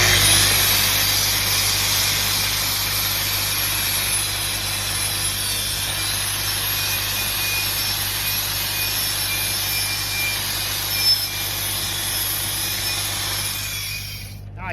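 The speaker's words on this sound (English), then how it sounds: "what I like to do is buff it right where I started" A power buffer grinds steadily against a steel weld at its starting point, a loud continuous abrasive whine with a low hum beneath that holds for nearly the whole stretch before cutting off at the end.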